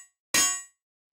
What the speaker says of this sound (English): You can hear it's just like a really short snare sample.